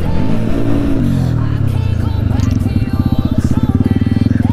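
A motorbike ridden fast roars close by, its engine note dropping from a high rev into a deep, pulsing throb that chugs rhythmically and loudly toward the end.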